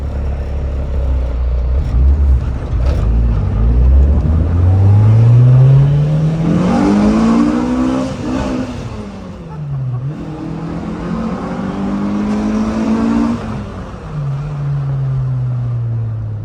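A loud Subaru BRZ tS engine revs up and down repeatedly, its roar echoing in a tunnel, with rising and falling pitch sweeps.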